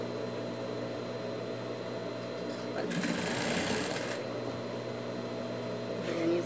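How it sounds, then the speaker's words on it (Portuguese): A sewing machine stitches a dog shirt in one short loud burst of rapid needle chatter, standing out over a quiet room hum. "Vamos costurar. Retrocesso."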